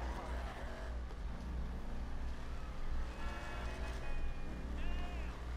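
Stolen car in GTA 5 driving with a steady engine drone and low rumble throughout, with voices talking over it.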